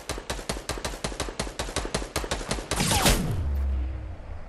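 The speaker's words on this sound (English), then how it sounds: "getting shot at by the other base" Gunfire in the Fortnite battle royale game: a rapid, evenly spaced string of about a dozen sharp shots, cut off by a louder whooshing blast that fades into a low rumble, with no talk.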